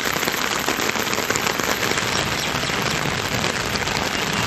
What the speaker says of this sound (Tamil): மேல்விசாரம் உள்ளிட்ட பகுதிகளில் மழை கொட்டி தீர்த்தது